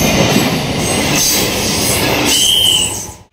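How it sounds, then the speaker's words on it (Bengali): A train rolls past a closed railway crossing gate near Agarpara station in West Bengal. The loud, steady rumble of wheels runs throughout, with a high wheel squeal near the end before the sound cuts off abruptly. No voices are heard. "একটা ট্রেন যাচ্ছে"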